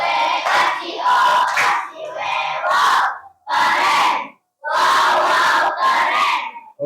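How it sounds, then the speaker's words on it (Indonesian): A classroom audience at a teaching performance test in Jambi bursts into rhythmic clapping and loud shouted cheers, several energetic bursts separated by short pauses, close and lively. "Ya, tepuk tangan juga ya. Tepuk apresiasi."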